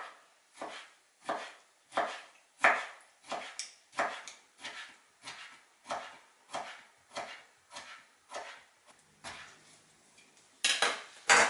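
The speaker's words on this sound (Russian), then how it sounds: "4 соленых огурчика нарезаю тонко." A knife cuts thinly through four salted pickles on a board in a steady run of about sixteen crisp chops, loud and close with no talk.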